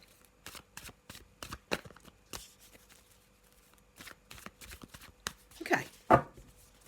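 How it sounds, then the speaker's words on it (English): A black and white Faulkner tarot deck shuffled in short bursts of close papery riffles and slaps, separated by brief pauses, with two louder handling knocks near the end; no one speaks. "So just going to have a little shuffle and I'm going to use the black and white Faulkner deck as usual"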